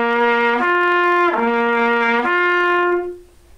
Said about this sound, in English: let's try that together and see if you can go from low to high using that